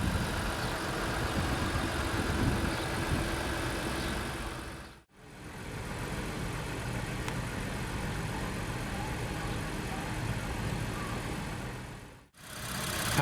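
A 2017 Infiniti Q60 3.0-litre twin-turbo V6 engine idles steadily at close range, a low continuous rumble with two brief dropouts where the sound cuts away.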